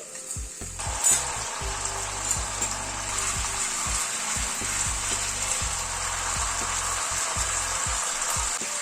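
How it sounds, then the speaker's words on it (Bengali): Ginger paste fries in oil with spices for a vegetarian kofta curry, a steady close sizzle under repeated scraping and stirring knocks of a spatula against the pan, no talking. "আদা বাটাটা দিয়েও আবার একটু কষিয়ে নিচ্ছি।"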